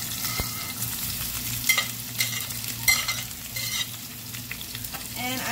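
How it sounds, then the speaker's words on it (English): Zucchini sizzling in hot oil in a pan for a gluten-free chicken pasta, a continuous crackling hiss over a low hum, with occasional spoon scrapes and pops, near and without speech. "We're going to add our zucchini when the oil is nice and hot."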